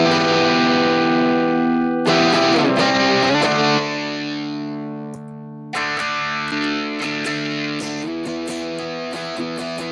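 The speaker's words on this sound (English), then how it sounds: "Let's dial in a Vox sound here on the Headrush." Electric guitar played through a Headrush Vox AC30 amp model with a dirty, overdriven tone: sustained chords ringing out, then a run of picked notes, loud and close with no talking.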